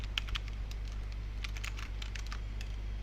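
Typing on a computer keyboard: a quick scattering of light, close key clicks in uneven bursts over a steady low electrical hum.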